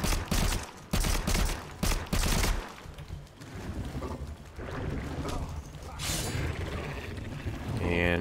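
Rapid gunfire in a Minecraft-style survival game, loud bursts of shots in the first few seconds followed by a rumbling, churning mechanical wash.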